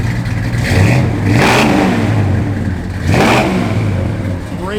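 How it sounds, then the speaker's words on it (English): A 1955 Chevrolet 210 engine idles with a steady rumble, then is revved twice in quick, loud swells that fall back to idle. "Give it a little rev, Dale."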